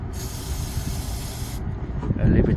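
Cleaner hisses in a steady close spray onto the mass airflow sensor of a Ford E350 van for about a second and a half, then stops, leaving low background rumble.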